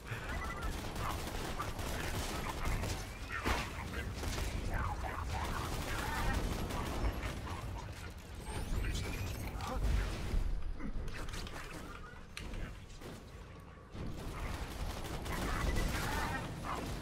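Assault rifle fire in the shooter Borderlands 2 rattles as dense, continuous bursts mixed with game effects and booms, fairly quiet overall with brief speech and laughter over it.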